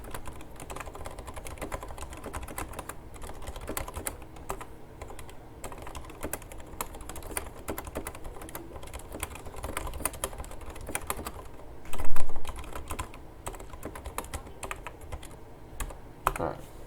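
Rapid, steady clicking of fingers typing notes on a computer keyboard continues throughout, close and moderately quiet, with a brief louder burst of keystrokes near the end.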